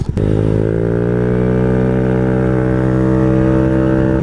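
A Honda Ruckus scooter drones loud and close with a steady, buzzing engine hum as it rides along a road, holding an even pitch throughout with no talking.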